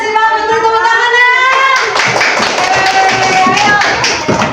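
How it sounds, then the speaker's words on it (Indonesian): A university class group at UIN Sunan Kalijaga breaks into close, lively hand clapping that comes in over ongoing voices and fills the second half. "terima kasih banget untuk tepuk tangannya"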